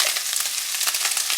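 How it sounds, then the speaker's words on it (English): Ground meat frying in a skillet with salt and pepper, a dense close crackling sizzle with quick pops and a faint scrape of stirring, steady and alone. "if you can hear me over the sizzling, as this was frying"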